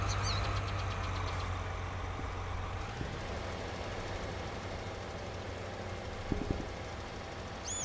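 A John Deere tractor engine in Farming Simulator 19 runs at a steady low idle-like drone throughout, with a brief clunk partway and a short mechanical thump near the end, no voices present.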